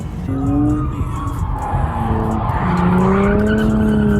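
A Lexus IS300 drifts on the skid pad at Grange/Apple Valley Speedway, its tires skidding in a loud, sustained squeal that wavers in pitch over a steady engine roar, close and continuous with no voices.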